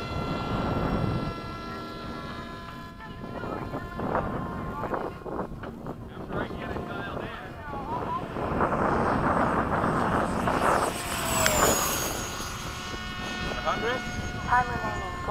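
Freewing 80mm MiG-21 radio-controlled jet making a fast low pass from the left, a ducted-fan whine swelling to a loud rushing peak and then fading with a falling pitch, with wind buffeting and someone talking.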